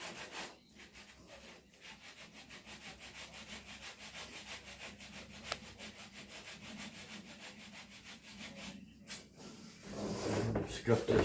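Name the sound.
scuff-sanding a surface on a Mini-Max 1030R build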